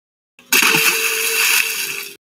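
Floodwater gushing out of a flooded house through a just-opened door, a sudden loud rush of water that starts abruptly and keeps pouring steadily for nearly two seconds before cutting off.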